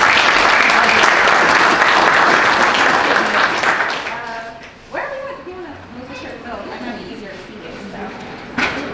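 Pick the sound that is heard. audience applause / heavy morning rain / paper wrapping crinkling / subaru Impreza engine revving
audience applause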